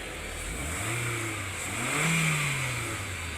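A Honda Jazz engine running abnormally, heard up close as a mid-pitched drone that revs up and down unevenly twice over a steady hiss, with a faint clattering edge.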